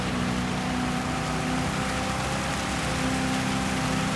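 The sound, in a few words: rain during Gran Turismo 7 race at Le Sarthe, video game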